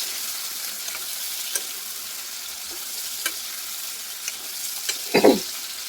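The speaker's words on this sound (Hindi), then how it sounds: "हाई फ्लेम में इसे आप अच्छी तरह से भून लें।" Masala for matar paneer fries over a high flame, giving a steady sizzle with faint scraping stirs. A louder stir near the end stands out, and no voices are heard.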